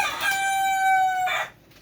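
A rooster crows once, a long drawn-out cock-a-doodle-doo with a bright harmonic tone, close and loud, fading into quiet at the end.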